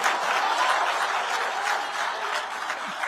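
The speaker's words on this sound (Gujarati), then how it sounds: "એના તાળીઓથી વધાવવો પડે" Audience applause at a gathering with students, a sustained crowd of hands clapping at a fairly even level that eases off slightly toward the end.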